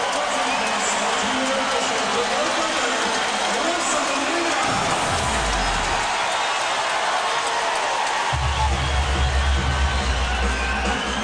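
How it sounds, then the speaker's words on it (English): Loud crowd roaring and cheering throughout an NBA basketball game between the Lakers and Thunder, with a commentator's voice and low rumbling thuds underneath, swelling near the end. "listen to the crowd"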